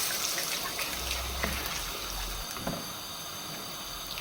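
Vegetable stock made from an OXO cube poured into a pan of peanut stew, a short close splashing pour with gurgles that tapers into a quieter trickle, no talk.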